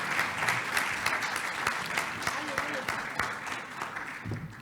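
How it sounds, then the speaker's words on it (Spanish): Audience at a national public budget seminar gives a sustained round of applause for a departing speaker, a dense, steady clatter of many hands that stays fairly loud throughout and tapers slightly at the end. "Les damos un fuerte aplauso, por favor, para despedirlo."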